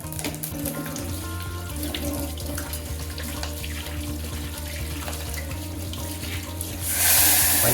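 Water runs steadily from a kitchen tap during cooking, a continuous close splash that swells into a louder, fuller gush in the final second.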